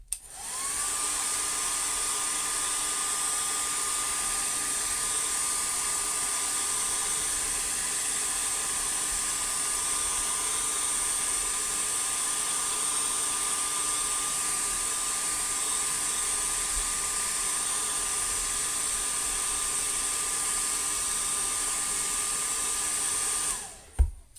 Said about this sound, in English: I gotta hit this with the hairdryer right quick